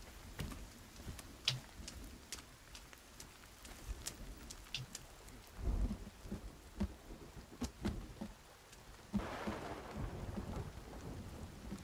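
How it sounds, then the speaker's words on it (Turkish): Rain and thunder in the survival game Sons of the Forest: a soft, steady patter of rainfall with scattered drops, punctuated by low rumbles of thunder, faint and distant overall. "Ne yağmur buraları ya."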